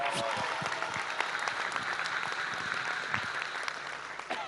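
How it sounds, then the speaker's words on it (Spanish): A crowd claps steadily at a public health event in Apetatitlán, Tlaxcala, honouring Mexico's President Claudia Sheinbaum. The applause is dense and continuous throughout, with a faint murmur of voices mixed in. "démosle un fuerte aplauso para cerrar esta parte de intervenciones a la Presidenta de México"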